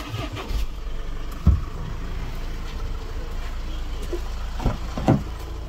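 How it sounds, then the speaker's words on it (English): A 2012 Honda CR-V EX engine cranks and catches, then settles into a steady idle, with a few sharp knocks and clunks along the way. "Let's just start the car up so you can hear it running."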